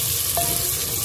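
Onions and tomatoes fry in oil in a pan with a steady, close sizzle that holds at an even level the whole time, with a faint stirring scrape midway. Village daal chawal cooking.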